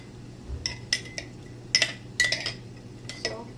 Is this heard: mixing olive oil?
yes